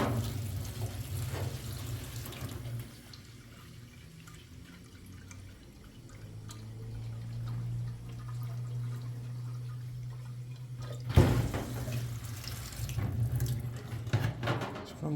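Water runs and pours in a steady stream, fading lower midway before a louder splash and gurgle near the end, with no talking over it.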